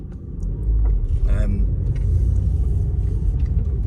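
BMW E46 325i convertible with an M54 B25 engine idling, a steady low rumble heard close up after the engine catches.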